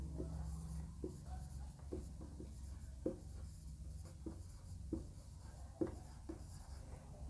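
Pen or marker writing a free body diagram on a board or paper for a mass element, steady close scratching strokes in short repeated bursts with small taps between, alone with no talking.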